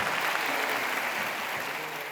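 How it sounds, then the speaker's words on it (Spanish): Church congregation in Bogotá clapping together in sustained, dense applause, steady and fairly loud throughout with no voices standing out. "Y un gran aplauso para nuestros hermanos que los visitan."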